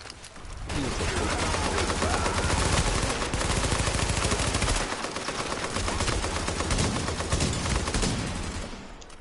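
Dense, sustained shotgun fire from The Division, loud and continuous with a brief dip midway before the blasts resume, near and overlapping with almost no pause.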